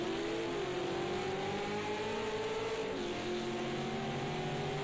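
V8 supercar racing on a track, a loud close engine roar with rising and falling revs through gear changes, heard from an in-car view.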